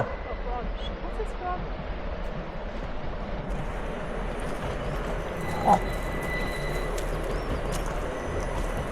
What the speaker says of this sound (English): Oh, it's not a steam train, but it is a train.